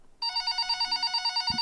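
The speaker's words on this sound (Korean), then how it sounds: "새벽 4시가 됐을 즈음 갑자기 울려대는 전화벨 소리에 화들짝 놀라" After a moment of near silence, a telephone bell starts ringing in the early morning hours, a loud, steady trilling pulse that repeats about a dozen times in quick rhythm.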